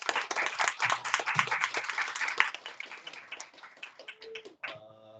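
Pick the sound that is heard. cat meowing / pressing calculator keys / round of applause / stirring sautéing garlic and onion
round of applause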